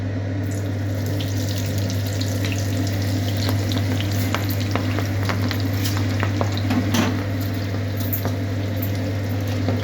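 Raw jackfruit pieces frying in hot oil for a Konkan-style chivda, a steady loud sizzle with scattered crackles and pops throughout, under a constant low hum.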